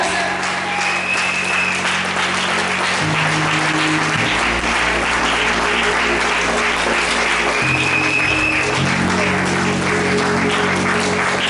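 A church congregation applauds the Lord in a steady, dense wave of clapping that stays loud throughout, with a sustained keyboard tone underneath and faint voices mixed in.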